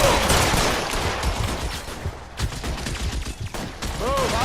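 Gunfire in the video game L.A. Noire, with several rapid shots and bursts cracking close in a busy, noisy scene, followed by a brief high game sound near the end.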